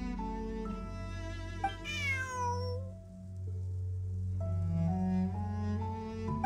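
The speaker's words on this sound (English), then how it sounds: "Bonnie is Pierre's cat." Bonnie the cat meowing in Genshin Impact, one drawn-out, falling meow standing out clearly above a steady game music background.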